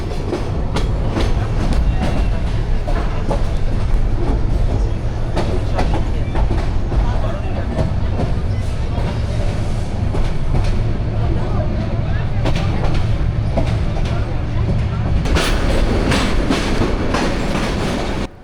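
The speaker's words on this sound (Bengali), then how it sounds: "আমাদের ট্রেন স্টেশন ছেড়ে গতি বাড়িয়ে ছুটতে শুরু করেছে" The Parjatak Express from Dhaka to Cox's Bazar speeds up after leaving a station, its rolling rumble and rhythmic wheel clatter loud and continuous from inside the train.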